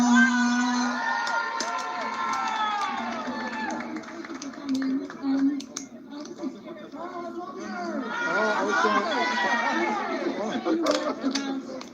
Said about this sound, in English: please give a round of applause for Adesola